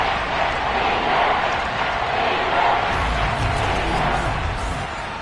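Big football stadium crowd at a Vikings versus Falcons game, a loud, sustained roar of cheering that fills the whole stretch with no break.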